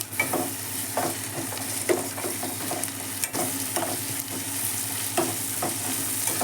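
Grated ginger sizzles and fries with cooked onions in a pan for an Indian okra fry, a steady close sizzle broken by repeated stirring scrapes, with no talk.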